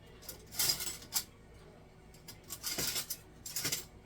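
Metal cutlery clinks and rattles in short bursts as someone rummages through a drawer for a fork, faint jangling clusters separated by brief quiet gaps.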